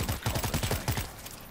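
Rapid gunfire in World War Z: Aftermath, a tight burst of repeated shots in quick rhythm, loud and close, tailing off near the end.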